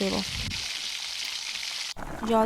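Curry frying and sautéing in a pan, a steady broadband sizzle that runs close and loud for most of the stretch, briefly cut off, with short bits of talk at the start and end.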